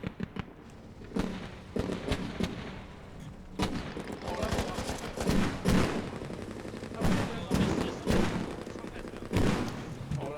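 Dense gunfire and explosions crack and boom in a Squad video game battle with infantry and BTR armoured vehicle support, rapid shots and heavier blasts overlapping throughout, with a commentator talking over them.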